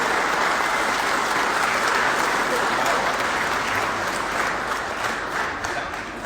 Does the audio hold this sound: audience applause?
yes